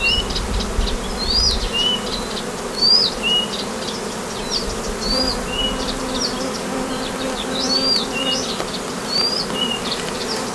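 Honeybees swept off a hive frame buzz loudly and continuously close by, with high whining wingbeats over the constant hum and no talking.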